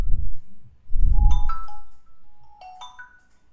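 A Redmi Note 13R ringtone plays short chiming melodic phrases, with bursts of low thumping handling noise between them and quiet playback at the end.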